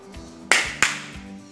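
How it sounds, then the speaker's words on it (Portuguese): Two sharp, loud hand claps about a third of a second apart, made close by to set off a small robotic scorpion, with a faint low hum between and after them. "Deixa eu bater uma palma aqui, vamos ver se ele vai se levantar."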